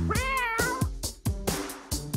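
A cartoon cat gives several loud, close meows in quick succession, each a drawn-out wavering cry, sounding alone without any talk over it.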